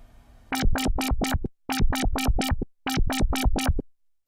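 Sylenth1 synth bass patch with very fast LFO modulation, played alone as three loud bursts of four pulsing, buzzy notes each, separated by short gaps.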